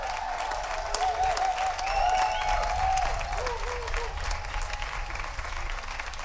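A village classical concert audience applauds the soloists with dense, sustained clapping at close range, while a faint sung or played tone drifts over it early on.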